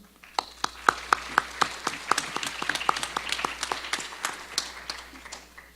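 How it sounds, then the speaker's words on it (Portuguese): Scattered hand claps from a small audience honoring prize winners at a buyer-duties panel event, sharp individual claps building into a moderate, uneven round of applause with no voices. "Gostaria de pedir uma salva de palmas a cada uma delas."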